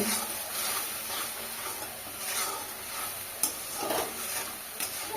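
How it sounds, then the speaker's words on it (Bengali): Spice paste (masala) with salt and turmeric frying in oil in a pan for a simple rohu fish curry, a steady close sizzle with soft scraping stirs throughout and a couple of sharper spatula knocks. "এবার এই মশলাটাকে ভালো করে কষিয়ে নেব।"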